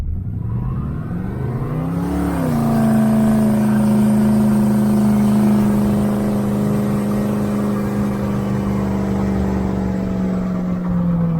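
A 1978 El Camino SS with headers drones loudly and close as its engine rises in pitch, then drops as the transmission shifts gears and settles into a steady, throaty cruise.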